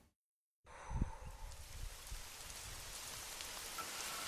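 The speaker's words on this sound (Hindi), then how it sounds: "अचानक से इतनी तेज बारिश, कुछ अता पता ही नहीं होता इन मुंबई की बारिशों का।" Sudden heavy downpour in Mumbai bursts in after a moment of silence and settles into a loud, dense, steady hiss of rain hitting surfaces.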